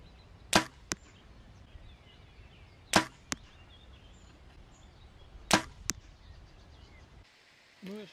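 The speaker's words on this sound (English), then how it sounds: "I now shot 3 arrows on target at 25 meters." Three arrows shot from a bow at a target 25 meters away, each giving a sharp release snap followed moments later by a thud of impact, spaced a few seconds apart and heard alone without talk.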